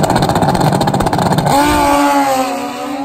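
Turbocharged, nitrous-fed street drag motorcycles such as a ZX-14 launch off the line with a loud, rapid engine roar that swells and then settles into a high, whining pull as they speed away.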